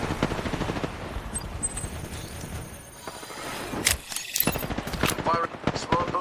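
Knuckle cluster weapon firing in the shooter game Fuse, rapid continuous automatic gunfire bursts with heavy impacts and a few sharp blasts, loud and close, with game voices mixed in.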